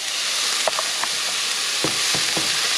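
Bacon fries in a pan for a Maltese baked rice dish, giving off a loud, steady, close hiss of sizzling fat, broken by a few soft knocks and scrapes and with no talking.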